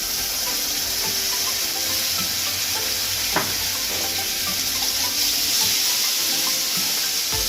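Ginger, green chilli and garlic paste dropped into hot oil, a loud, continuous hissing sizzle that stays even throughout, with one brief clink partway through.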